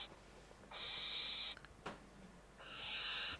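Barn owls in a nest box give two harsh, hissing screeches separated by a brief pause, faint and fairly distant against a quiet background.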